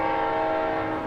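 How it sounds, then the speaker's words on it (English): A train's horn sounds as one long, steady, loud blast with rich sustained tones, heard up close in Montana with a low rumble of the passing train beneath it. "Train is back."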